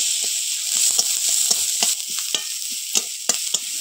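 Chopped onions and crushed garlic hitting hot oil in a pan, a steady bright sizzle broken by sharp scraping taps of a spatula stirring.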